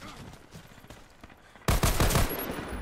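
Automatic fire from a Dragon 9 rifle with the trigger held down in Warface, quieter background shots first, then a loud sustained burst of rapid gunfire through the last second.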